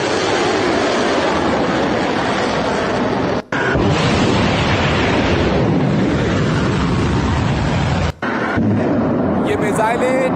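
Missile explosions over Tehran in news footage: dense, continuous roaring blasts and rumble fill the scene loudly, with two brief cuts to silence along the way.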